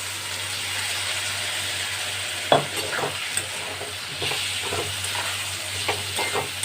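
Marinated soya beans with spices sizzle and fry steadily in a pan, with a few sharp scrapes and clinks of stirring over a continuous hiss.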